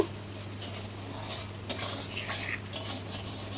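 Tomato masala with salt and turmeric sautéed and stirred in a pan for aloo chana masala, a quiet constant sizzle punctuated by irregular spoon scrapes and taps against the metal.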